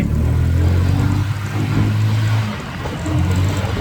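Steady low engine drone from an X&Y XY150 UTV on a test drive, a loud rumbling hum that dips slightly near the end, then picks back up; no voices.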